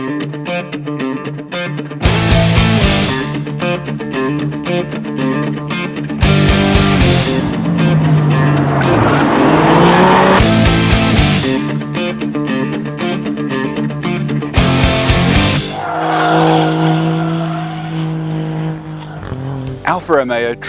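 An Alfa Romeo Giulia Quadrifoglio is driven hard on a race track, its engine revving loudly through repeated rising gear pulls punctuated by sharp shift breaks, with a voice talking over parts of it.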